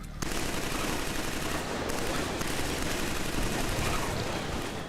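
Assault rifle fire in the shooter Killzone 3 rattles as continuous dense automatic bursts with other gunfire and explosions mixed in, loud and sustained throughout, with no voices.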